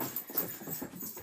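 A dog making soft, scrabbling noises and low sounds indoors for about a second, close and fairly quiet, with no one talking.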